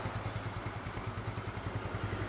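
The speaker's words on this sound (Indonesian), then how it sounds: "Suara knalpotnya tuh masih mantep gitu, nggak ada bocor-bocor" A ten-year-old Yamaha Mio motorcycle engine idles with its exhaust running, a steady, quiet, even putter with a regular pulsing rhythm and no other sounds.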